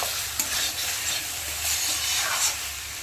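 Ridge gourd and potato sautéing with spices in a pan, a steady close sizzle and hiss with scraping stirring throughout, no voices.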